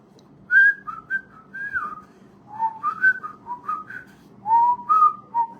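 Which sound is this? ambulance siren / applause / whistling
whistling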